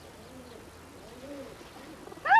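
Racing pigeons cooing softly in low, rolling phrases, near and fairly quiet, followed by a short burst of higher chirping at the end.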